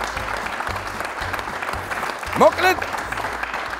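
A studio audience at a televised joke show claps in a steady wash of applause while a host speaks over it, with a short vocal outburst near the end.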